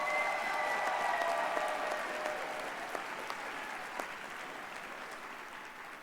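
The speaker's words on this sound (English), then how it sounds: "Shall we give him a round of applause and thank you?" Applause from a graduation ceremony audience for a retiring professor, a fairly distant, even wash of clapping that slowly tapers over six seconds.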